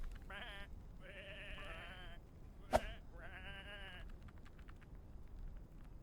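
Sheep bleating in the video game Whateverland, several drawn-out wavering bleats in sequence, with a sharp click in the middle and faint tapping toward the end.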